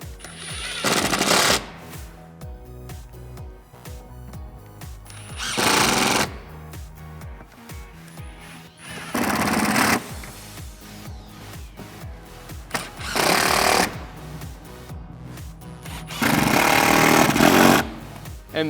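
Power tool rattling T30 Torx bolts into a Roush cold air intake on a 2018 F-150 5.0L, four or five loud bursts of impact rattle with pauses between them.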